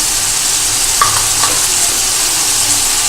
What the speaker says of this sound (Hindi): और ये चिकन इसमें शामिल करके इसमें तकरीबन आधा चम्मच